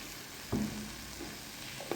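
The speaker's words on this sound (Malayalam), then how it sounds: "ഉപ്പ് ഇട്ട ശേഷം നമുക്ക് എല്ലാം ഇളക്കി അടച്ചു വെച്ച് വേവിക്കാം" Vegetables cook in a salted pan with a soft, steady sizzle and one clear knock of a spoon against the pan, quiet and close, with no talk.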